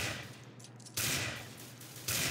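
Gunfire from the video game Zombie Zone, two loud bursts of shots a second apart with a hissing decay between them.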